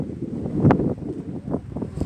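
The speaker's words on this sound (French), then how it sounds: "il y a vraiment du vent" Strong wind blowing outdoors at a poultry farm, gusty rumbling buffets across the microphone in short uneven surges, close and moderately loud.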